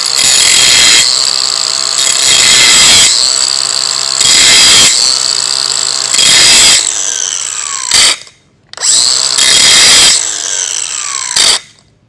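Power tool tapering the underside of a welding pipe, loud, harsh grinding bursts of a second or two each, repeated with brief gaps and short pauses, close up with no talk.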